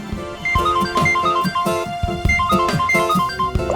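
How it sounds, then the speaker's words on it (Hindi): A phone ringtone plays a repeating electronic melody of bright tones over a steady beat, loud and close, filling the whole moment with no voices over it. "किसका फोन है?"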